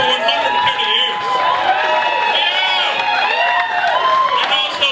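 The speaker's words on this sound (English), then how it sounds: "Can I just get a round of applause" A crowd at a GAA 130th anniversary celebration breaks into sustained applause and cheering, voices whooping and calling out over steady clapping throughout.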